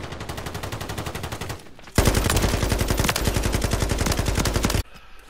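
Rapid automatic gunfire from a shooter game, loud and sustained in dense bursts with a brief lull before a heavier, continuous stretch that cuts off abruptly near the end.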